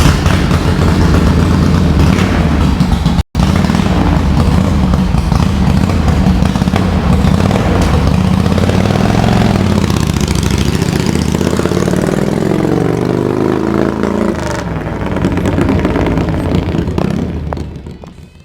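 A motorcycle engine runs loud and steady up close, a dense throbbing rumble that holds constant before easing off and fading near the end.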